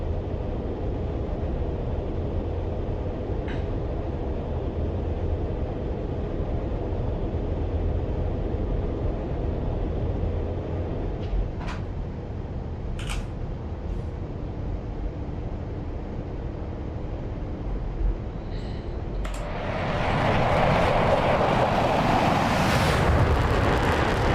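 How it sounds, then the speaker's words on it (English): An F-15E Strike Eagle in the DCS flight game takes off, a steady broadband jet roar holding throughout and swelling louder and brighter near the end as thrust builds, with a few brief cockpit clicks along the way. "We're doing a very quick takeoff."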